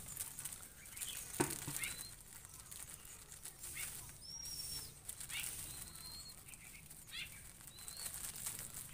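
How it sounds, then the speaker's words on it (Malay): A caged zebra dove shuffles and flutters, giving soft intermittent wing flaps and scratchy patters, with thin chirps from birds nearby in a quiet outdoor setting. "Seperti ini kita merawat burung perkutut bos."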